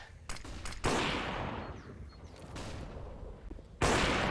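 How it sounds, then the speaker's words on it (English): A Counter-Strike match at IEM New York 2020, with AWP sniper rifle fire and other gunshots: a few sharp cracks, then loud reports with long decaying tails, the last one heavy near the end. "AWP will fire away."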